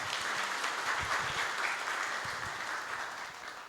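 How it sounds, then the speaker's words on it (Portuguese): Audience clapping at a spiritist seminar, a dense, even wash of applause from a crowd that holds steady for nearly four seconds and tapers slightly at the end. "Muito bom, palmas para a Cidinha, gente."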